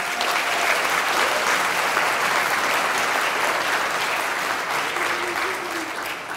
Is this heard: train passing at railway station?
no